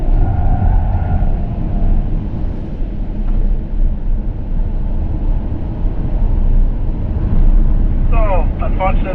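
A race car drives on a track, giving a loud, continuous engine drone and rumble heard from close by, with a brief whine of changing pitch near the end.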